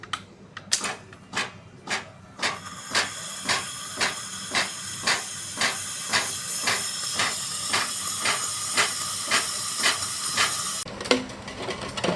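A Krups coffee machine, repaired by swapping a leaking water valve for a solenoid valve, hisses steadily with steam while about twenty rhythmic pulsing beats repeat through it, changing briefly near the end.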